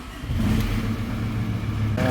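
A VW T4 van engine is started for the first time after repair and runs roughly with no exhaust or intake fitted. It gives a loud, uneven idling rumble that lifts slightly near the end, with no talking.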